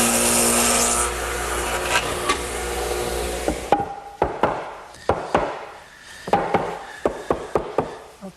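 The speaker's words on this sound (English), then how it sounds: "before I remove the dado head cutter, I want to make one more dado in the 4x4" A dado head cutter on a table saw cuts a dado in a 4x4 brace support, giving a loud steady whine for several seconds before spinning down, followed by a run of sharp, close knocks and taps.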